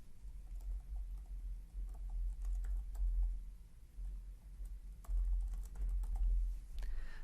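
Light, rapid keystrokes on a computer keyboard patter faintly over a low background hum, coming in short, irregular runs.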